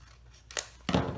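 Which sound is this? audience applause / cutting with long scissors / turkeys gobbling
cutting with long scissors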